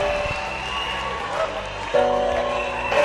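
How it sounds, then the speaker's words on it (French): Church congregation applauding during a healing service, a dense wash of clapping and crowd noise with music and a voice over it. "Donne une offrande d'acclamation à celui qui nous guérit."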